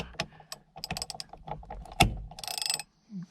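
A ratchet clicks as a new bolt is run down on a 2017-2022 Honda CR-V steering wheel, uneven close clicks and metallic knocks followed by a fast ratcheting burst, without speech.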